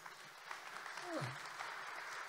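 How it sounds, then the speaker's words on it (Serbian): An audience at a public science panel discussion in Serbia applauds a professor being welcomed, a soft, distant patter of clapping that stays steady, with a brief voice-like sweep in the middle. "I molim vas da jednim aplauzom pozdravimo profesora"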